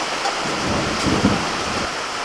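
Rain falls steadily under a heavily clouded sky, with a low rumble of thunder rolling through the middle. The whole clip is a constant, moderately loud wash of rainfall.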